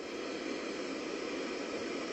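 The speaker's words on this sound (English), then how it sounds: "You guys got that static white noise?" Steady static white noise from a Bluetooth sleep-aid speaker, a dense, even hiss that holds at constant loudness throughout with no breaks or other sounds.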